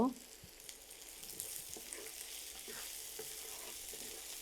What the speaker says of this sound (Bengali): রসুন এবং পেঁয়াজটাকে ভেজে নিয়েছি